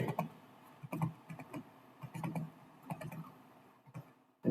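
Keys tapped on a computer keyboard while entering text into an Excel spreadsheet, soft close clicks in quick irregular bursts with short pauses between.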